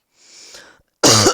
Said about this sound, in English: Sorry for this cough.